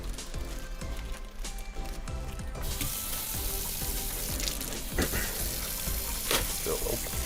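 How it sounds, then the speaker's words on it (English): Romaine lettuce being rinsed under a running tap in a firehouse kitchen sink: a steady hiss of flowing water swells in after a few seconds and continues as a close, moderately loud wash with occasional splashes. "we'll go ahead and get our romaine lettuce washed and cut up. So we'll come over here and just give it a quick rinse."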